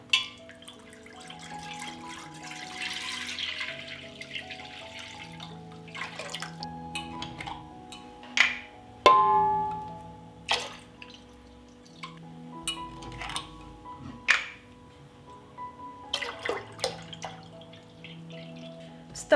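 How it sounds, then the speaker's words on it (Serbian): Three litres of fresh farm milk go from a container into a deep pot, a quiet liquid pour joined by drips, light clinks and small knocks, close and otherwise silent. "Kupila sam 3 litre domaćeg mleka na selu od farmera i sada ću ga sipati u jednu dublju šerpu"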